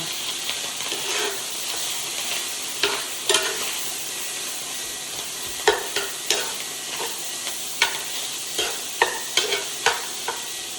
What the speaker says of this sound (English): So now I'm gonna stir around the beef, break it up a little bit with a metal spoon